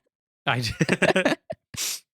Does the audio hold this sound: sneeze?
yes